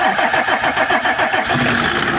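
A small motor pump engine runs nearby with a rapid, pulsing mechanical chug that stays loud and steady, its rhythm faltering slightly toward the end as it is being shut off.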